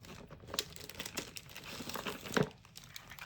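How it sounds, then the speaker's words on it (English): Washi tape being handled and peeled while working on a sewing junk journal makes faint close crinkling and rustling, with soft irregular crackles and a brief tearing burst partway through. "I gotta get some of this washi tape out of the way."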